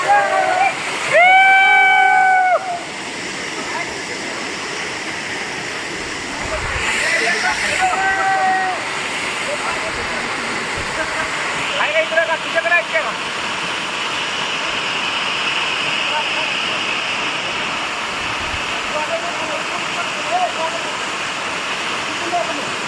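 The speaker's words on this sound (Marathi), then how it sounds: "अतिशय रम्य असा हा अपरिचित असा धबधबा बघू शकता आपण" Javali waterfall near Natepute pours in a steady, full rush of falling and splashing water, with brief human calls and chatter rising over it early on.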